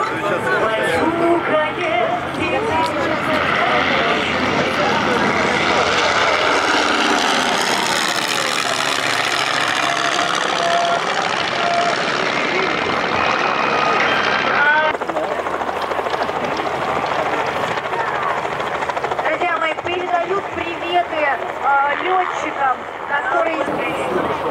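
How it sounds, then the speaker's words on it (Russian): Vintage propeller aircraft fly at the Mochishche air show in 2018, a loud continuous engine drone that swells as the planes sweep past overhead, with an announcer's voice over the public address. "Приветствуем, легендарные самолеты."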